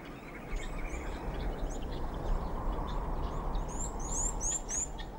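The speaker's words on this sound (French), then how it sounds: "Le ciel saharien est traversé par bon nombre d'oiseaux migrateurs, des rapaces et des oiseaux granivores comme l'alouette." Small birds call over the Sahara desert, thin high chirps and a quick run of tweets near the end, set against a constant loud wash of wind-like noise.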